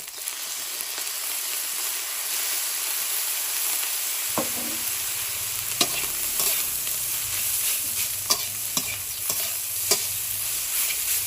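Egg fried rice with white soy sauce stir-fries in a pan, beginning as a steady hiss, then breaking into a busy sizzle with repeated spatula scrapes and clinks building toward the end.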